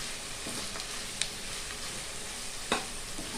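Spice powder being stirred into vegetables frying in a pan for fried rice, with a continuous close sizzle and a couple of brief spoon scrapes and taps.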